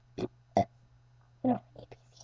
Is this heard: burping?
yes